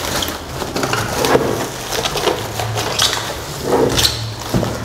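Cardboard and foam packaging supports being pulled off and crushed while unboxing a PlayStation 5 console, a run of close, scrunchy crackles and creaks with a low hum underneath and no talk.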